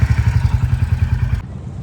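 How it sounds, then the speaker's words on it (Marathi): A motorcycle engine throbs with a steady low pulsing rumble, close and loud, then cuts off abruptly near the end. "मस्त आम्ही बाईक राईड करून जाणार आहे आता."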